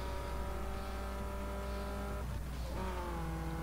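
Race car engine in Need for Speed Underground 2 holding a steady high drone, then pitch drops briefly at a gear change before climbing again, loud and continuous.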